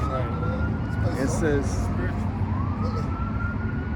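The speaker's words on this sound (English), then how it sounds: "And the siren started." A siren wails at a distance with a rising and falling tone, riding over a steady low background hum, with faint voices underneath.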